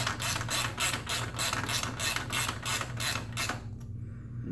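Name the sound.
ratchet tightening a nut on a Yamaha R1 exhaust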